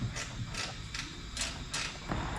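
Short ratcheting clicks in quick bursts as a 1/4 inch nut and washer are tightened onto a small stud on a 2013+ Ram 2500, about five close, fairly quiet passes with no talking.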